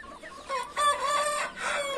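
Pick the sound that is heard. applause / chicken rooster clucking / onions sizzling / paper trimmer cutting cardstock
chicken rooster clucking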